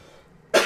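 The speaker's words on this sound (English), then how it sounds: "I was like an old man kind of cough" A single sharp, raspy cough, an old-man kind of cough, bursts out near the mic after a moment of quiet, loud and abrupt.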